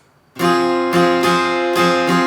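Acoustic guitar strumming the chords of The Weeknd's Blinding Lights close up in a steady rhythmic pattern, bright chords ringing continuously with several accented down and up strokes, no voices.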